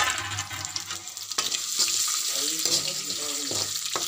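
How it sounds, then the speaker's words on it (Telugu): Peanuts tipped into a hot frying pan for lemon tamarind-style rice, giving a watery, crackling sizzle with scattered clatter of the nuts against the pan, steady and close. "నెక్స్ట్ ఫ్రెండ్స్, ఇలా పల్లీలు వేయాలి"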